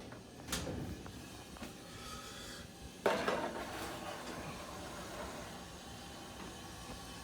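A tray of edible brownies goes into a home oven: a metallic clink, then a louder clatter of the rack and pan a few seconds later, over a steady low hum, close and moderately quiet.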